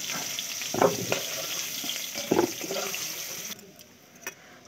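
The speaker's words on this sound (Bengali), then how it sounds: "তেলে আবার তেল দিয়ে ফোড়ন দিলাম, জিরে, শুকনো লঙ্কা, তেজপাতা ফোড়ন দিয়ে" Hot oil sizzles as cumin, dried red chillies and bay leaves are stirred in, with a couple of scraping knocks against the pan; the frying hiss drops away near the end.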